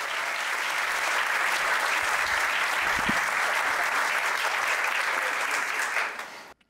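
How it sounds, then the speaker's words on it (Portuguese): A large audience gives a round of applause for Bruno, a thick, continuous roar of clapping sustained at full strength for several seconds before cutting off abruptly at the end. "Uma salva de palmas pro Bruno, senhoras e senhores."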